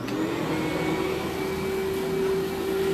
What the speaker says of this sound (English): Make sure when you're using your vacuum cleaners that you have them on the right settings.